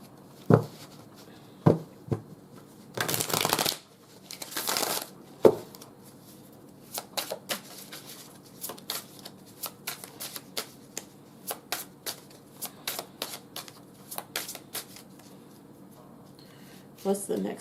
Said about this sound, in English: I'm just going to go ahead and pull some cards